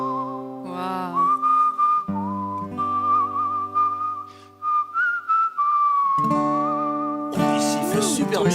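On a talent-show stage, a performer whistles a clear, sustained melody with gliding and wavering notes over a band accompaniment, ending in a loud burst of crowd noise and music.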